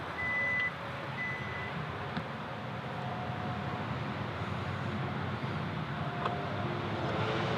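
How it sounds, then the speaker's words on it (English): A power liftgate on a 2025 Hyundai IONIQ 5 N closing, with a few short electronic warning beeps over a steady motor hum and outdoor background noise. "Lower the power lift gate here."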